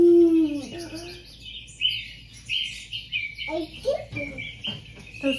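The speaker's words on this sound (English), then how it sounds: "Those birds? You hear it?" Several birds chirp and tweet in short bursts nearby, with a low cooing call at the start and a faint background hum.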